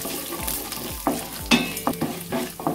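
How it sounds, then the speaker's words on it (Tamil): Cumin seeds, urad dal and chana dal fry in hot oil in a kadai, with a constant close sizzle broken by repeated scraping stirs. "கடாயில் எண்ணெயை ஊற்றிட்டு காஞ்சதும் சீரகம், உளுத்தம்பருப்பு, கடலைப்பருப்பு"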